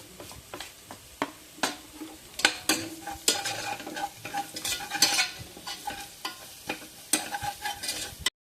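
Turmeric, chili and garam masala powder are stirred in a hot pan for vegetable biryani, with repeated spoon scrapes and taps against the metal over a soft sizzle.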